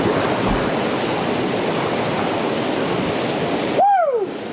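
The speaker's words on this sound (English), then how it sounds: "I gotta get in the river." A river in the Vancouver Island backcountry rushes in a loud, steady broadband wash, close by and continuous, ending with a brief sharp sweeping sound.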